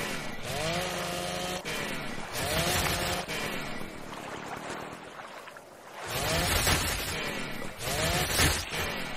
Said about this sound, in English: Let's get a chainsaw.